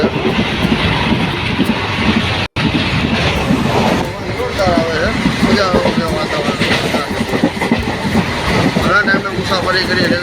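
A passenger train from Dhola rolls on the rails toward Dhasa Junction in heavy rain, with a steady loud rumble and rattle heard from inside the carriage and passengers talking over it.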